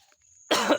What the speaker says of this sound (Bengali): এখনো কাশতেছি